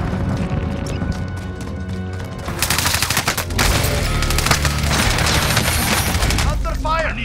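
Video-game gunfire crackles in rapid bursts, sparse at first and then a loud, dense fusillade of automatic shots, with booms and voice chatter mixed in.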